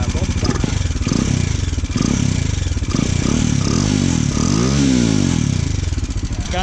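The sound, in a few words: customized Bajaj Dominar 400 motorcycle engine with catalytic converter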